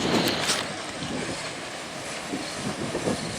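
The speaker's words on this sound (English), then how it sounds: "It's the fishing boats coming in." Fishing boats come into the harbor at Point Judith beside the beach, a faint, steady broadband rumble with a soft wash of water and no voices.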